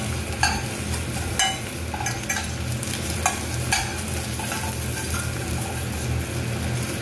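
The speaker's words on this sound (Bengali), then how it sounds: "মোটামুটি আমার ডিমটা ভাজা হয়ে যাচ্ছে," An egg fries in oil in a pan, giving a constant close sizzle with intermittent scrapes and taps of a spatula against the metal as it is turned.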